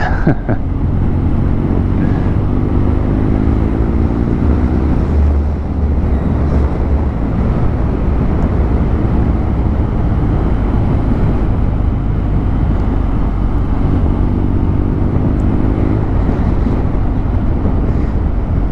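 A 2020 BMW R NineT S motorcycle with an Akrapovic exhaust rides at steady speed, its engine drone loud and continuous under heavy wind rush for the whole stretch.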